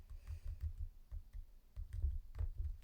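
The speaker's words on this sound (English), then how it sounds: "What if I just type something?" Typing on a new keyboard for a Mac mini, a quiet, irregular run of soft key clicks and thumps heard close up, alone.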